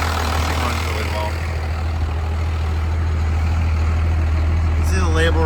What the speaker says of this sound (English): Starts right up. 12 valve Cummins.